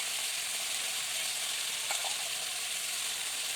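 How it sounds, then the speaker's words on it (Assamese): Small fish frying in hot oil in a pan: a dense, even hiss of sizzling fat stays close and steady throughout, with one faint knock partway through and no voices. "চাওক তেল পূৰা গৰম হৈ আছিলে, ফুটিছে।"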